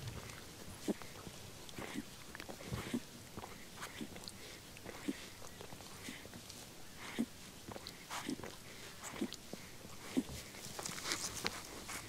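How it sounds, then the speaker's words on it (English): A young cheetah cub suckles from its mother, giving close, quiet wet smacking and clicking sounds in a steady irregular rhythm, with no talking. "Listen to the sound of a cheetah cub suckling."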